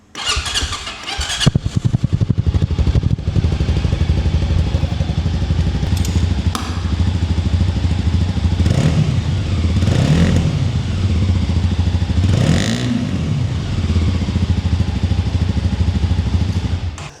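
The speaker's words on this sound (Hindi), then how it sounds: "तो अगर से सिंगल सिलेंडर बाइक है, मैं आपको इसकी फिर भी साउंड आप लोगों को थोड़ी सी सुना देता हूँ" A VOGE 300DS single-cylinder motorcycle starts up, settles into a loud clattering idle, then gets several sharp throttle blips that rise and fall in pitch.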